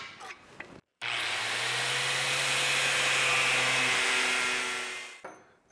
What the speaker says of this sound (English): So we're gonna go ahead and cut some gussets.